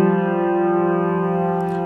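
Two piano keys, F3 and G3, struck together as a single sustained dyad, ringing steadily and close, alone without talking.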